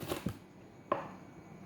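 Knife cutting tomato and lemon for a homemade garden mixed salad, a few faint, quiet chops on a board, with soft taps spaced irregularly and no talk.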